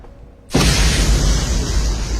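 A sudden explosion set off with the tip of a cigarette bursts in after a short quiet lead-in and roars loudly and continuously to the end.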